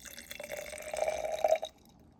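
Water pours into a mixing container of homemade hyaluronic acid serum with ferulic acid, a steady close trickle that swells and then stops abruptly, leaving near silence.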